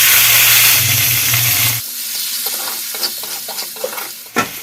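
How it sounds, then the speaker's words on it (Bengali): Chopped onions hit hot oil with whole spices (dried red chilies, cumin, cardamom, cloves, cinnamon) for a soybean do pyaza, giving a loud, steady sizzle that drops suddenly to a softer crackle with a few stirring clinks. "এর মধ্যে দিয়ে দেবো আমি কুচিয়ে রাখা পেঁয়াজ"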